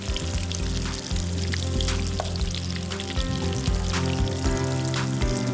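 Pieces of fish fry in hot oil with a loud, bubbling sizzle that keeps going throughout, and occasional sharper pops and spatters rise above the steady crackle.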